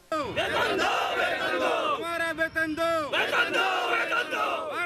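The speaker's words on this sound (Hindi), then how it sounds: "गुरुवार को सारे मदरसा शिक्षकों ने गांधी उद्यान में एक बैठक की तथा इस दौरान उन लोगों ने जमकर नारेबाजी व प्रदर्शन किया" Madrasa teachers shouting slogans at a protest gathering in Gandhi Udyan, Bareilly: a loud massed crowd of voices chanting rhythmic slogans in unison, with repeated call-and-response bursts carrying on continuously.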